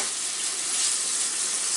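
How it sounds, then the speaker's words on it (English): Steady, dense sizzling and crackling of bacon frying in a pan, close and continuous with no voices. "Now we're getting the beautiful sound of bacon frying."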